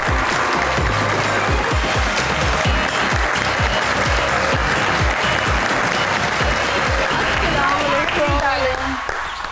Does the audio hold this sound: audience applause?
yes